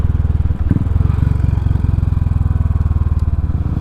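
A Royal Enfield motorcycle fitted with a Race Dynamics Powertronic controller, on a road test, its engine running loud and close in a steady rapid thumping pulse with no talk.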